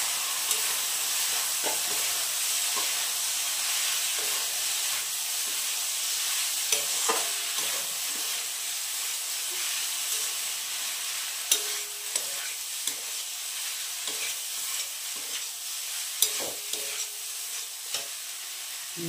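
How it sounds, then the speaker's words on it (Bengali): Pasta poured into a pan and stirred, producing a steady, bright sizzle throughout with frequent light scraping and tapping of a spatula, close and fairly even in loudness, no voices. "এবার আমি পাস্তাটাকে ঢেলে দিচ্ছি।"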